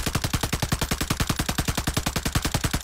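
Rapid automatic gunfire in the battle-royale game Warzone, a steady fast burst of about thirty shots in under three seconds, loud and close with no talk.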